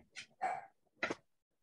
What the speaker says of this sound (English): I recognize her little bark.